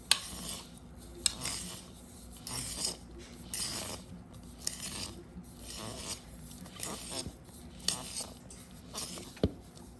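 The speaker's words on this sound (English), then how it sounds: "we're just going to be mixing that so that it's fully mixed" Chana dal paratha filling is stirred and scraped in a bowl with a utensil. It makes repeated clinks and rubbing scrapes in an uneven rhythm, close up and fairly quiet.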